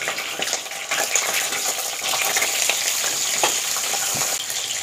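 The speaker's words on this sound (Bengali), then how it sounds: "তেল গরম হয়ে গেছে, এবার আমি পটলটা দেব," Pieces of pointed gourd crackle and sizzle as they go into hot oil, a loud, close, busy frying hiss that stays strong throughout with small spatters and no voices.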